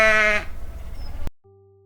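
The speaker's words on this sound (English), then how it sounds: "Sheep says baa." A sheep gives one short, clear bleat up close at the start, followed by a brief stretch of faint background noise and a soft tonal sound at the end.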